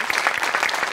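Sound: loud applause

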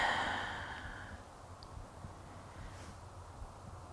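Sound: deep breath in and exhale

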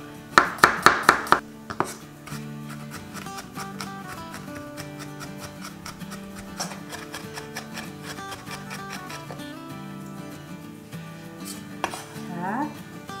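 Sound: mincing garlic with a knife

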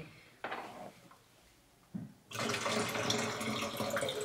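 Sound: emptying liquid fixer out of a photo developing tray

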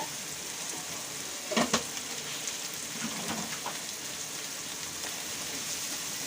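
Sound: sautéing masala in a pan for chilli idli

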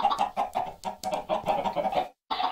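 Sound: chickens clucking in Minecraft video game

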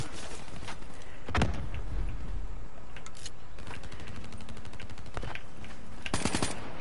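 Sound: gunfire in Call of Duty Black Ops 3 video game

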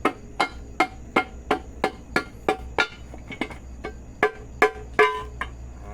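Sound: rubber mallet knocking on gearbox part

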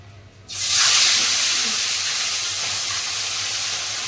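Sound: fish frying in a pan

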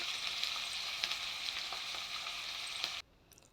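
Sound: green chillies and onions frying in hot oil

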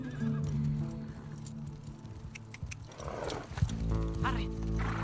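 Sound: horse neighing and galloping in a video game

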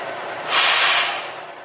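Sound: prime mover truck reversing under semi trailer, airbags lowering

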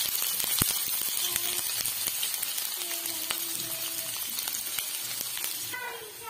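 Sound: onion frying in hot oil in a kadhai

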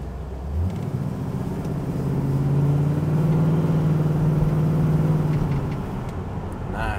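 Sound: 1976 Pontiac Trans Am engine while driving

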